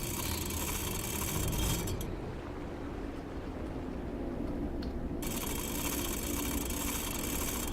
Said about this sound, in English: I'm going to go electric engine, half speed, flood the tanks